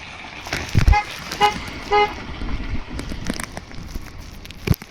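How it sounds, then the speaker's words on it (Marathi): A car comes down the road from above a hill-station viewpoint in Lanja, Konkan, giving a few short horn toots that sound moderately distant over a light rush of wind and road noise. "हे बघा गाडी येते वरतून"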